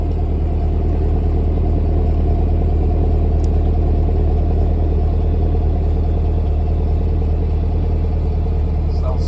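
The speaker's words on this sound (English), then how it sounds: "It's the exhaust." A 2023 Chevy Camaro 1SS convertible idles with a steady, deep exhaust rumble, close and continuous throughout with no revving.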